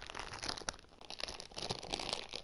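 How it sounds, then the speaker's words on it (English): Crunchy Cheetos snack being chewed up close, with crinkling of the chip bag, a dense run of irregular crackly crunches over about two seconds. "You're gonna hear some crunching"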